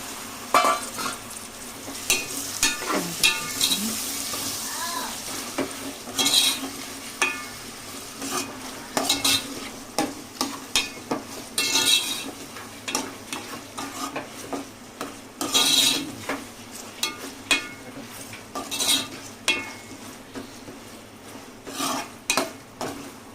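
Prawns fry and are stirred in a thick curry gravy in a pan, with sizzling under repeated scraping and clinking of a utensil against the vessel, loud and close, in irregular bursts and without talk.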